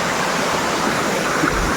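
Water falls at a tall waterfall, giving a steady, broad roar that stays even and fairly loud for about two seconds, heard alone without talk.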